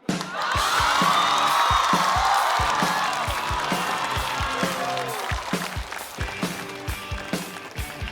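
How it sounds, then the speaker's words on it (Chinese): A stand-up comedy show audience bursts into loud applause and cheering, with whoops over dense clapping, and the crowd noise stays strong before easing slightly toward the end. "掌声有请"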